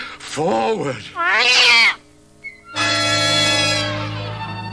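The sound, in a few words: cat meowing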